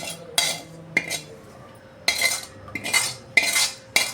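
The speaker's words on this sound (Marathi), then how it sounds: "आता तो एका डिशमध्ये मी काढून घेते" Sautéed onion is scooped from a pan into a dish, several bright metallic clinks and scrapes of a spoon against cookware at uneven intervals, close and moderately loud.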